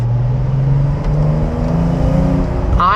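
A 2020–2024 Porsche 911 992.1 Carrera 4S with a seven-speed manual gearbox, heard from inside while driving: a loud engine pulls steadily with rising pitch, then a brief burst of higher revs right at the end.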